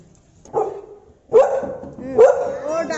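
A dog barks twice in quick succession nearby, two loud sharp yelps after a softer whine-like sound at the start, with a person's voice around them.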